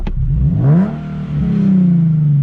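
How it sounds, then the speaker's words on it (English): A stock Nissan 370Z Nismo engine revving hard up toward its 5,000 rpm limit, a loud close rising roar that dips briefly and then holds near the cap, with no speech. "This thing doesn't let you rev past like 5K for whatever reason when it's stock."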